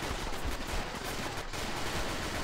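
Rapid bursts of gunfire in the first-person shooter video game Be Gone crackle repeatedly, sounding somewhat distant and blending into a continuous rattling barrage.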